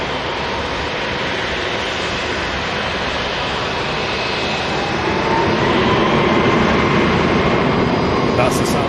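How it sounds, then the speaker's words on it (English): A Ryanair passenger jet departing from an airport, heard as a loud, steady broadband engine roar that swells slightly as the plane moves away. "That's the sound of the Ryanair going out,"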